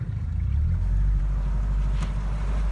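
A pontoon boat's outboard motor idles in gear, giving a steady, deep rumble with soft water and wind noise around it and a brief splash-like burst near the end.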